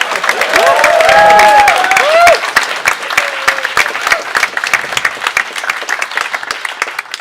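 A live stage-show audience breaks into loud, dense applause mixed with cheers and whoops, swelling during the first two seconds and then thinning into scattered claps that trail off.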